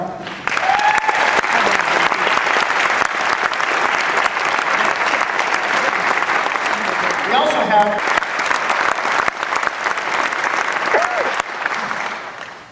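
A theatre audience at a Lancaster gala gives sustained, loud applause for RCAF veterans, filling nearly the whole stretch before tapering at the end, with a host's voice speaking briefly over it.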